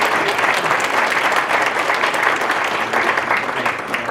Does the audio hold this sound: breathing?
no